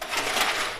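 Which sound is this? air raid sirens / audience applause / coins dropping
coins dropping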